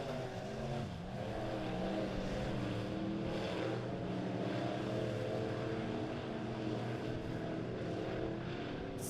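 Dirt modified race cars from a B-class heat at Springfield Raceway roar steadily around the track in single file, a dense layered engine drone of several cars staying loud and continuous throughout.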